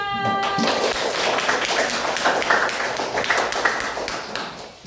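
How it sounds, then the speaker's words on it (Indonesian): A class of students claps for group 5 in a classroom, a dense, steady patter of many hands lasting throughout, with a brief high tone at the start. "ayo tepuk tangan untuk kelompok 5"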